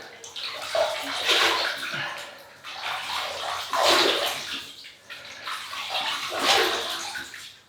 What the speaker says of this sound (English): So I'm just going to rinse the face.